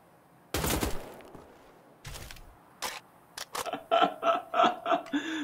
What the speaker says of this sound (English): You can just shoot their heads once they're dead and collect their helmets.